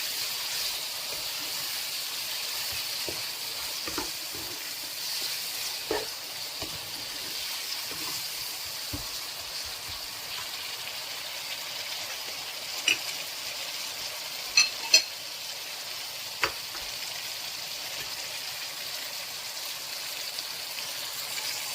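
Red, green and bird's eye chilies stir-frying with spicy mutton in a pan, a steady sizzling hiss running throughout with a few sharp clinks of stirring, moderately loud and close, with no talking.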